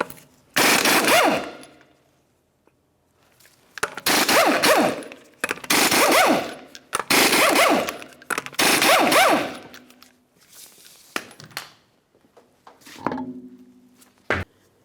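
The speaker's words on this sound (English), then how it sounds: "continue on to removing all 5 of your 19mm lug nuts and then the wheel" Impact wrench spinning off the 19mm lug nuts from a Ford Flex wheel, five loud rattling bursts of about a second each with short pauses between, followed by a few fainter clicks and clanks.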